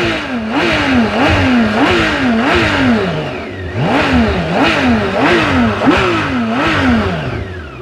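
A 2022 BMW K 1600 GTL six-cylinder touring motorcycle engine starts and revs repeatedly in loud, rising-and-falling bursts, close by, with a steady mechanical rumble between the throttle blips.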